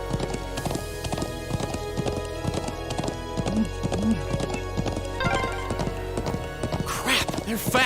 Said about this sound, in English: Chasing them on horse.